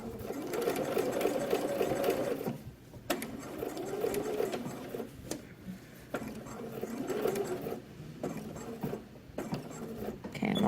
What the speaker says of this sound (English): I'm just going to sew down, top stitching around this placket.